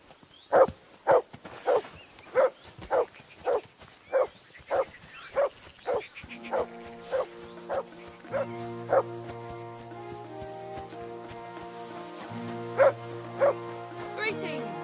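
A dog in the medieval role-playing game Kingdom Come: Deliverance II barks repeatedly at a steady rhythm, about a dozen sharp barks, while a sustained musical score swells beneath the later ones.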